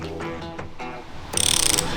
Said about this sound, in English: with the digital torque wrench, for accurate torque, it's important that you maintain a constant velocity on the pull